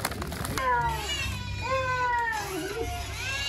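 A cat, one of two being fed, lets out a series of clear, drawn-out meows up close, the calls rising and falling over a quiet room with faint background voices.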